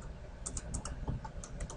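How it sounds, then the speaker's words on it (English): Steady, fairly quiet clatter of keys on a computer keyboard, with quick irregular keystrokes running throughout and no talking. "all you got to do is start typing"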